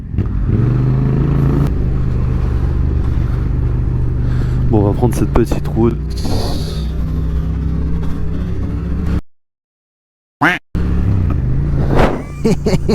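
A motorcycle engine rumbles loudly and steadily close by on a road, briefly revving, while someone speaks over it; the sound cuts out for a moment near the end.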